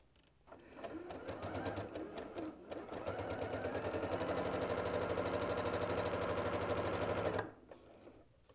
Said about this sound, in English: So I sewed right up to that joint.